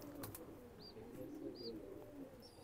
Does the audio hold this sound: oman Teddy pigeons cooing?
yes